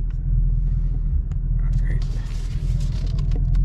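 A 2021 Mustang GT with a Roush X-pipe, resonator delete and stock mufflers rumbles low and steady while driving, a deep continuous drone close by with light road noise above it.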